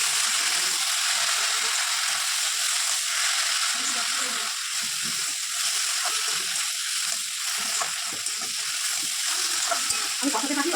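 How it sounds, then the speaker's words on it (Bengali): Mushrooms and potatoes fry in a pan, giving a steady loud sizzle, while a utensil scrapes and stirs them in irregular strokes, with faint talking underneath. "এই মাশরুমটা দিয়ে দিচ্ছি, ভালোভাবে কষিয়ে নেবো।"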